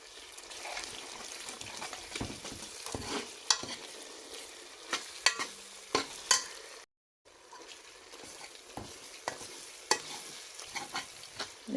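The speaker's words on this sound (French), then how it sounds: "on laisse frire le tout de cette façon-là pendant plus de 10 à 15 minutes" Tomato sauce for thieboudienne fries in a pan and gets stirred now and then, a soft close sizzle punctuated by scraping spoon strokes, with a brief silent gap midway.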